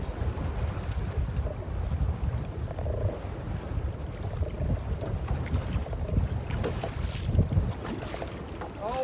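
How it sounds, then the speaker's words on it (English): Steady wind roars across Lake Monticello, buffeting the microphone with low rumbling gusts and no pauses. "always windy."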